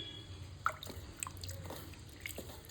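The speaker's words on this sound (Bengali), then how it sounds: "এটাকে এখন ভালো করে পরিষ্কার করে ধোবো মাছগুলোকে" Boiled dried fish is rubbed and washed by hand in water, giving soft intermittent drips, splashes and squishy wet sounds at close range. The sounds are quiet and irregular, with no talk.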